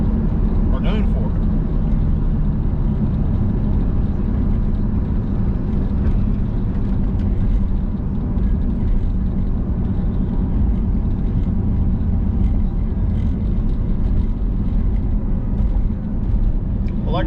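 A steady, loud supercharged engine drone from a Terminator Cobra runs throughout, rumbling low and continuous, with speech over it.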